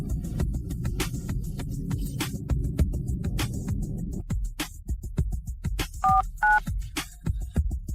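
A phone number being dialed: a short run of paired touch-tone beeps near the end, heard over a low throbbing hum and scattered clicks, fairly close and clear.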